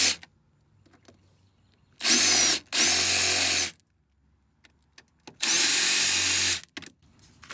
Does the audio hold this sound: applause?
no